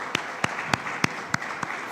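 An audience applauds Ministry of Health staff at a certification ceremony in the Turks and Caicos Islands, with individual sharp claps standing out in a steady, moderately loud rhythm over a softer wash of hands.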